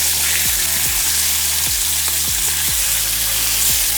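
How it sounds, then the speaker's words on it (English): Oxtail pieces searing in a pan over high heat, a loud, constant crackling sizzle with a low engine-like hum beneath it. "you sear them."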